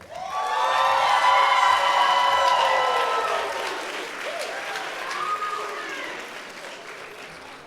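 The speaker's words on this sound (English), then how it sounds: "Let's have a round of applause" Applause and cheering at a commencement ceremony, with loud, sustained crowd clapping and high whoops and shouts rising over it before the noise gradually settles.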